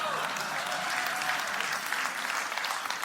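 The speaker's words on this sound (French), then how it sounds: "Applaudissements" Steady, dense applause from a large audience at a talk on motivation, a continuous wash of many hands clapping at full strength throughout, with faint voices mixed in.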